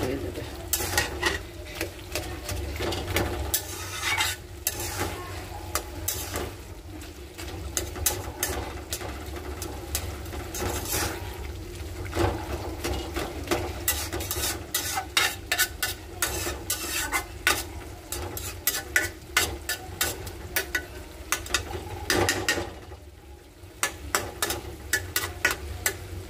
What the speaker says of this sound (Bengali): আর এই দেখেন আমার শাক শুরু হয়ে গেছে, আর একটু সিদ্ধ হবে, তারপরে সুন্দর ভাজা ভাজা করে নেব।